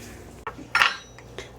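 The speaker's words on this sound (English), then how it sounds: "Are you chopping the garlic for Mama?" Kitchen knife chopping garlic on a cutting board at home: a few sharp, close taps and clicks spaced irregularly, the middle one loudest, with no talking.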